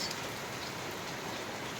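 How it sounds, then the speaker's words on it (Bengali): Steady rain falls continuously at night during a lightning storm, a soft even hiss of drops on surfaces with no voices. "এত সুন্দর একটা বৃষ্টির আওয়াজ"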